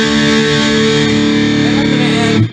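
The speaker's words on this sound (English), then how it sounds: "So I'll turn the overdrive distortion on." A dense, saturated overdriven electric guitar chord from a Boss ME-80 multi-effects overdrive distortion rings out loudly and sustains for over two seconds before cutting off abruptly.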